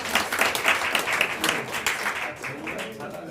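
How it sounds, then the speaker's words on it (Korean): An audience at a mission forum gathering applauds in a dense, continuous burst of clapping, fairly loud and close, with some voices mixed in. "박수 한번."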